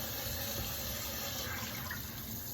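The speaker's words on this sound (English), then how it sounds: "So I got my warm water in there, and I typically just clean my meat." Warm tap water runs steadily into a sink over raw meat being rinsed clean, a continuous close splashing flow with no talk.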